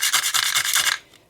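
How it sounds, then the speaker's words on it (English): Nutmeg is rubbed quickly over a small grater in a kitchen. About eight close, scratchy rasping strokes come in a fast rhythm, then stop abruptly. "The nutmeg can live up here. I can grate it down here."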